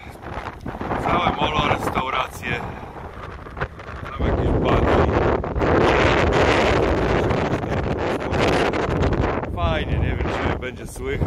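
Strong wind gusts on a Dutch beach batter the microphone, making a continuous roaring, buffeting rush that swells louder partway through, with no speech over it.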